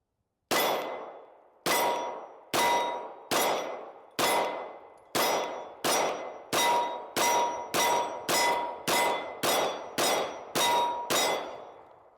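Pistol shots from an FN Reflex XL, fourteen sharp, loud reports with ringing tails, the first few spaced about a second apart and the rest fired in a quicker, steady rhythm.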